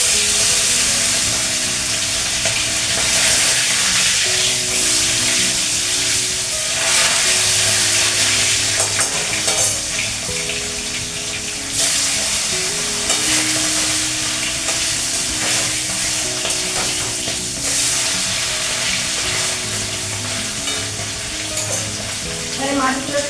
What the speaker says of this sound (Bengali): আমি মাছগুলো ভেজে নিচ্ছি।